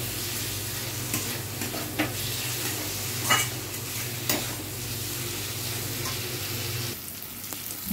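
Ground cumin added to cooked-down spice paste for a tilapia curry fries in a pan with a continuous close sizzle, punctuated by occasional sharp scrapes and knocks of a spoon stirring.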